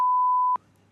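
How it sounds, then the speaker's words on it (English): A steady, loud, pure censor beep holds for about half a second and cuts off abruptly, leaving faint low background noise. "That's getting beeped."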